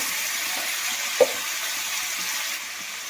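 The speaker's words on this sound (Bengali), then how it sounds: "আমার এই যে সিম দিয়ে আর গাজর দিয়ে এটা আমি একটু ভাজা করে নিই।" Broad beans and carrots fry in a pan with a steady, soft sizzle, and a single brief clink of a utensil cuts in partway through.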